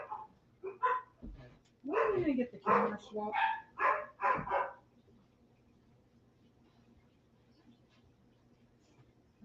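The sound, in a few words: dogs barking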